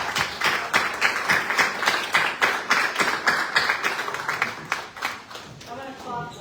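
Audience applause for a man at a community gathering in Flagler County, a steady run of many hands clapping at close range, dense and sustained, fading near the end as a voice begins.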